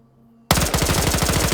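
Video game gunfire from a sniper shooting in a match, bursting in suddenly after near silence as a loud, rapid run of repeated shots that rattles on continuously.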